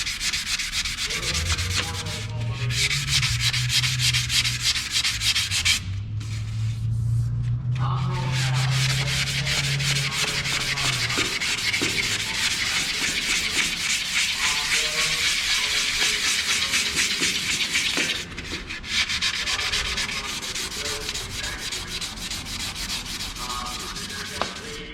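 Sandpaper on a soft-sided sanding pad rubs back and forth across wood in steady, continuous strokes, close and fairly loud, with a few brief pauses between passes.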